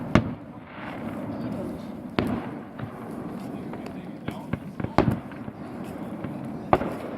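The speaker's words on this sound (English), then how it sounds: "Man, you gotta love fireworks on the 4th of July." Fourth of July fireworks burst at intervals outdoors, several sharp loud bangs and crackles spaced a couple of seconds apart over a continuous background murmur of people talking.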